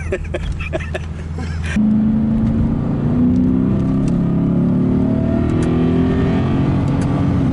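A 2010 model car's engine revs hard and winds out with a loud, rising drone after a rough opening, climbing steadily in pitch as it accelerates close by.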